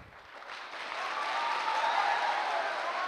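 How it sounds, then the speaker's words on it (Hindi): Audience applause for a tutor at a gathering in Bihar, a crowd's clapping that swells louder after the first second and then holds steady as a dense, continuous roar. "ये ताली बहुत कम है।"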